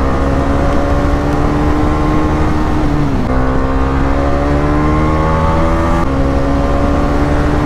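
A motorcycle at full throttle, its engine roaring loud and steady with a rising whine, dipping briefly at a gear change and then climbing again, heard up close with no voices.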